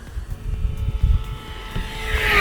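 An E-Flite V1200 RC jet plane flies a pass at partial throttle, a steady whine under gusty wind rumble that grows louder and brighter as it closes in toward the end.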